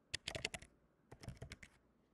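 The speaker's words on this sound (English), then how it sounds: "look what happens when you type in Pope Francis." Brisk typing on a computer keyboard entering a search, two quick bursts of close, crisp key clicks separated by a short pause.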